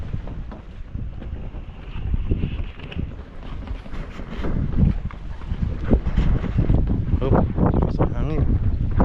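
Strong wind buffets and roars against the microphone at sea on a boat, gusting unevenly over several seconds, with voices talking faintly underneath.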